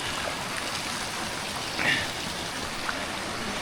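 Warm spring water runs steadily through a pipe channel near Lake Mainit, a continuous broadband rush with a faint splash midway and no talk.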